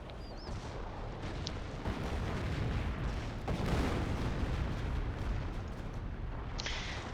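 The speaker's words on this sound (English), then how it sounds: "There's artillery called down on those Panzergrenadiers, and he loses all of them trying to build these tank traps again." Artillery strike raining down on Panzergrenadiers in Company of Heroes, a dense, continuous rumble of distant booms and blasts rolling through the whole stretch with no voices.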